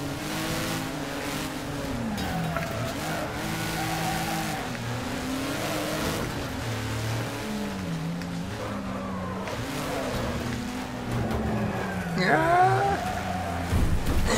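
Race car engine in Wreckfest, revving and wavering as it accelerates and shifts through a crowded race, close and continuous, with tire squeal near the end.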